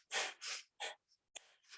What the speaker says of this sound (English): we're going to inhale sharply and exhale sharply